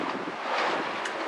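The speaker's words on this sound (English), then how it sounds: "It's getting really windy." Strong wind roars steadily across the microphone, a constant rushing buffet with water washing faintly underneath and no voices.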